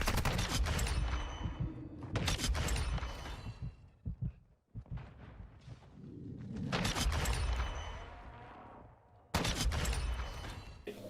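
Rapid bursts of SAB 50 sniper rifle fire in Call of Duty, arriving in several dense, loud clusters separated by short pauses.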